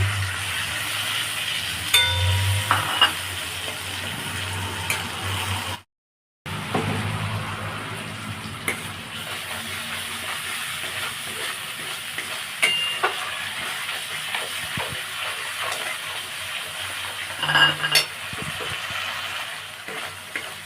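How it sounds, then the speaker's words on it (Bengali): Boiled potatoes sautéed with tomato and spices in a pan for an aloo dum, frying with a steady sizzle and occasional stirring scrapes throughout, broken by a brief silent gap near the middle. "সিদ্ধ আলুগুলো কষা কষাচ্ছি ভালোভাবে"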